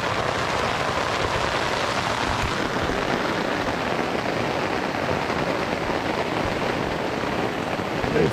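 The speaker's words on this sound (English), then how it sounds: "It's raining." Steady rain falls outdoors near Copper Harbor in Michigan's Upper Peninsula, a dense, even hiss of drops that holds at a constant level throughout with no voices.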